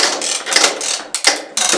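Ratchet tensioner clicking as it tightens a polyester strapping band in a Stahltex strapping tool, a few quick bursts of close, sharp mechanical ratcheting with brief pauses between strokes.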